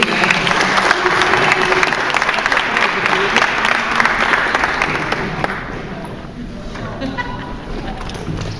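A convention crowd at a Power Morphicon podcast panel applauds the panelists with loud, thick clapping and crowd noise that gradually thins and fades toward the end.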